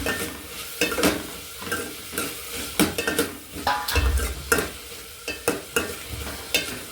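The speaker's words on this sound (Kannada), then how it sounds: "ನೋಡ್ತಾ ಇರ್ಬೋದು ಇಲ್ಲಿ ಕೈ ಹಾಕ್ತಾ ಇದ್ದಾರೆ" Egg and tomato curry being stirred in a pan, repeated loud spatula scrapes and knocks against the metal in an uneven rhythm over a frying sizzle.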